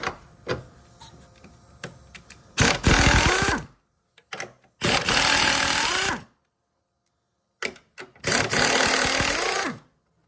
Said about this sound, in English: Let me go ahead and grab my air tool.